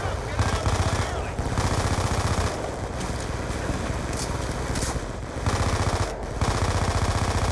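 Rapid automatic gunfire with heavy recoil in the Call of Duty: Black Ops 2 campaign: dense, loud, continuous bursts over a low rumbling background, with a few short pauses between volleys.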